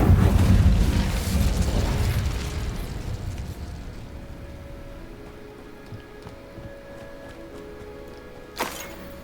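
An Incendio fire spell cast in a Harry Potter video game: a loud roaring whoosh erupts at the start and fades over a few seconds into a low hum, with a brief sharp crack near the end.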